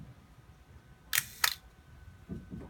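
Two sharp clicks of a 35mm SLR camera shutter set to 1/4 second, a fraction of a second apart, one opening and one closing, followed by faint mechanical winding.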